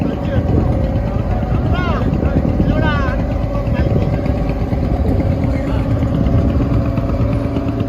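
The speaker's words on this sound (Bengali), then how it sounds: "ওইদিকে হচ্ছে বরিশাল থেকে সাতটা লঞ্চ এখন এই জায়গায় চলে আসছে" Passenger launches from Barishal arrive at the river ghat at Laharhat, a loud, steady, continuous engine drone with faint voices beneath it and a few brief high whistling tones.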